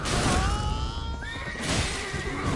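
A horse neighs in a video game amid combat, a long wavering whinny over a dense rumbling background of game noise, loud and close.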